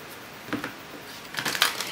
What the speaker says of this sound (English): These are a little bit more difficult to shuffle